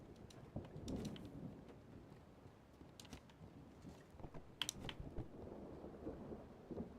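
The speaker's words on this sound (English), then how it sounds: "How's the storm not destroyed this village yet?" Steady rain and rumbling thunder from a storm battering a village in a lighthouse-keeping video game, a continuous low roll with a few sharper cracks, no voices.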